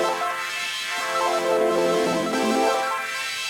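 A sustained pad from a Sequential OB-6 synthesizer runs through a high pass filter with chorus, steady and loud, its tone sweeping down and back up; no voices.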